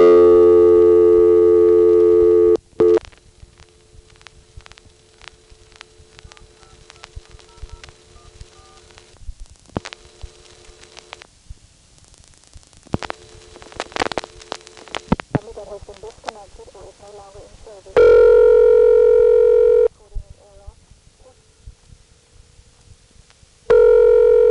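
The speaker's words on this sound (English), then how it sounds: "If one tries to dial long-distance calls directly, one gets a recording after 3 digits." A 1970s coin telephone in Greenville, North Carolina is dialed for a long-distance call, with loud tones, bursts of touch-tone digits and clicks broken by quiet gaps, and a steady tone returning near the end.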